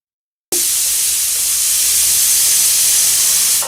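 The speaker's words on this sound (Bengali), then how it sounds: "এখন প্রেসার কুকারে ঢাকনা বন্ধ করে দিচ্ছি এবং 4টা সিটি হওয়া পর্যন্ত অপেক্ষা করব" A pressure cooker boiling dal lets out one loud, steady steam hiss that cuts in abruptly and holds unbroken for about three seconds before tapering off.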